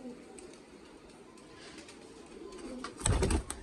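Home-bred pigeons in a breeder's loft coo softly and repeatedly at close range, ending in a louder burst of fluttering noise.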